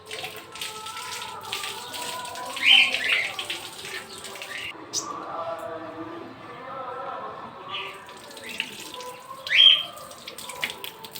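Tap water runs from a faucet into a sink while someone washes hands and face at night, a steady splashing stream with occasional louder gushes and someone talking over it.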